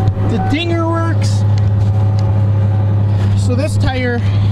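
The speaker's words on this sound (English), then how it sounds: "Seems like it's idling high, but it has no knock at all." The engine of an old, long-neglected Ford Ranger pickup idles high with no knocking, a steady, loud low drone running throughout while someone talks over it.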